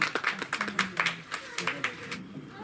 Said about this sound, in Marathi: टाळ्या वाजवा, टाळ्या जोरदार.